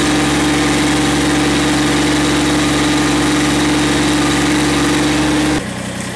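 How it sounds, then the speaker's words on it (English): Massey Ferguson GC1723 compact tractor engine held at full throttle, a loud, steady droning roar with a strong tonal hum that runs unchanged before cutting off abruptly near the end. "I'm gonna fire it up and go full throttle and we'll see what it can do."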